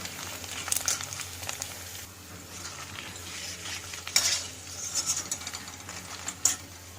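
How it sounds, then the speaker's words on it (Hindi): Sliced sun-dried potato chips frying in hot oil, a steady broadband sizzle and crackle throughout with a few brighter bursts of spattering, no talk. "ऑयल हमारा अच्छा हीट है तो मैं इसमें चिप्स डाल देती हूँ।"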